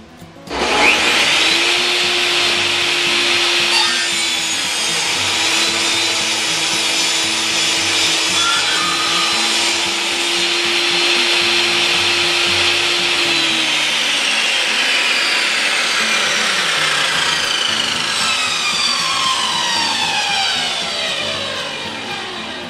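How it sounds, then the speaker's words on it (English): A power saw makes the final cut through a wooden treasure box, a steady loud whining drone lasting about twenty seconds with a pitched tone and a gradual fade at the end. "now I'm going to make the final cut at the top so that it's even all the way around"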